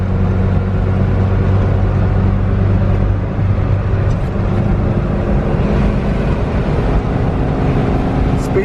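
A Suzuki Samurai cruises on a road at 45 mph, heard from inside as a loud, steady roar of engine and road noise that runs unbroken from start to finish.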